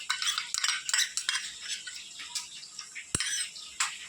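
Spoon stirring street-style chicken 65 with chilli sauce and tomato sauce in a pan, making light scraping and metallic clinks in short irregular strokes, fairly quiet and with no voices.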